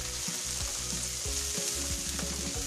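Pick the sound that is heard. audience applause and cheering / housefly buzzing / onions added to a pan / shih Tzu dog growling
onions added to a pan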